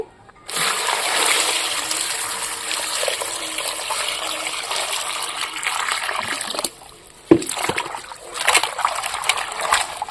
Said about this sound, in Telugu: ఒకసారి నీళ్ళు పోసుకొని నీట్గా అయితే కడుక్కుందాం పాలకూరని